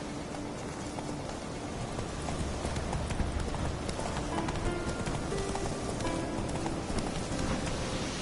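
Roach, a horse in a video game, gallops with a fast, continuous clip-clop of hooves over a dense rushing background, steady and fairly loud for the whole stretch.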